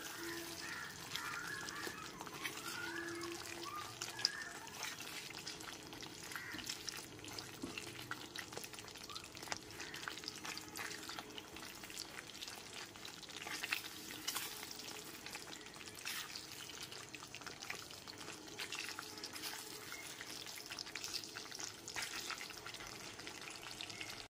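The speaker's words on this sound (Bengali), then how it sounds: "ভেজে নেওয়া ডিমগুলো দেওয়ার পর খুব ভালো মতো একবার গ্রেভির সাথে মিশিয়ে নিচ্ছি।" A steady, quiet frying sizzle runs throughout as fried eggs are stirred into the gravy of a Bengali egg rezala, with soft intermittent scraping and no talk.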